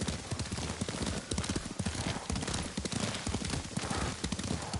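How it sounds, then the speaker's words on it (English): Steady clip-clop of horse hooves at a brisk rhythm in the video game Ghost of Tsushima, close and continuous, with no talking over it. "Lord Sakai taught me to ride a horse."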